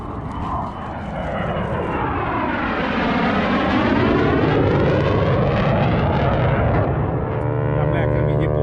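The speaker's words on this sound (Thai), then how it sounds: "Is that what I think it is, an F-18? Here it comes." An F-18 fighter jet flies past at a US Air Force base air show in Las Vegas, a loud roar that swells to a peak overhead, sweeps down in pitch as it passes and fades away.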